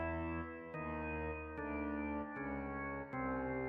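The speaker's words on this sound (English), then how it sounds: "They are tuning the strings of the guitar lower in a way that their" Electric guitar with its lowest string tuned down to C, played as heavy distorted low notes struck about four times in a steady rhythm, each chug ringing loud and thick before the next attack.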